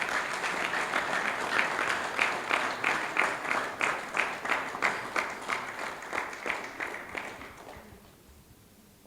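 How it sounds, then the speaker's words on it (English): An audience gives a sustained round of applause for the National Polio Emergency Operations Center, a dense clapping crowd that settles into loose rhythmic pulses of unison claps before fading out near the end. "May I please ask you to give them a round of applause."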